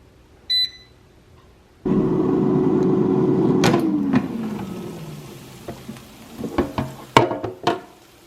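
An oven running while chicken meatballs cook: a short beep, then a steady humming drone that winds down in pitch and fades, followed by scattered clicks and clatter.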